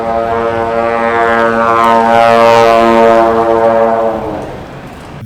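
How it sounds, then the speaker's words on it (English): A trombone played while riding a Onewheel electric board: one long, loud, brassy note held steady for several seconds, then fading out near the end, with no voices. "ride his one wheel while playing my trombone"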